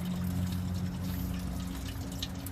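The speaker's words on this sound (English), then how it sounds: "keep on pouring until the water comes out clear" Water poured by hand into the coolant passages of a 1999 Ford Crown Victoria 4.6 intake manifold, a steady close trickling pour with a low hum beneath, no talking.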